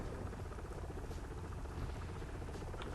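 A helicopter in an Arma PvP multiplayer battle gives off a steady, dense rotor-and-engine drone that fills the whole stretch without letup, with no talk over it.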